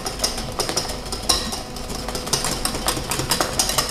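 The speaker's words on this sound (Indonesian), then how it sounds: "ini akan gue kocok sampai dia ngentel ya" A chocolate mousse mixture whisked by hand without a mixer gives off quick, rhythmic metallic clicks of the whisk striking the bowl, steady and close throughout.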